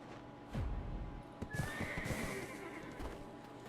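A horse whinnies loudly up close while hooves clip-clop in an uneven rhythm in Black Desert Online, with game-like ambient sound underneath.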